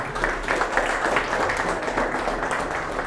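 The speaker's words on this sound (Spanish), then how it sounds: "Fuerte los aplausos" A crowd gives steady, dense applause at the opening ceremony of a Copedel agency branch in Cobán. The clapping fills the whole moment evenly without pause.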